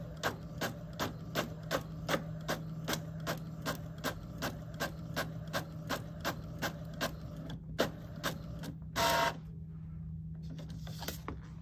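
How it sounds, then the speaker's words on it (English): A home printer runs on glossy sticker paper, its print head ticking back and forth in regular evenly spaced passes over a steady motor hum, ending with a brief louder whir as the sheet feeds out. "So I'm just going to tell it to print. And so now my printer is going to start printing"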